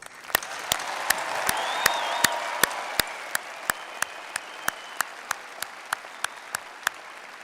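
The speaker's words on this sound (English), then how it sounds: "Another round of applause." Applause from an audience at an Iowa State University undergraduate commencement, a sustained wash of clapping that slowly thins, cut by regular sharp clicks.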